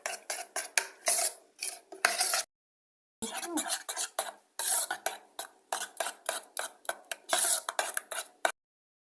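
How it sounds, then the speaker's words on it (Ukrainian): A spoon scrapes and clinks rhythmically against a bowl while stirring gelatin into a warm apple purée for a honey apple dessert, in quick repeated strokes with one brief pause, close and fairly quiet, no talking. "Ми прямо сюди додаємо у теплу суміш і добре-добре гарно розмішуємо."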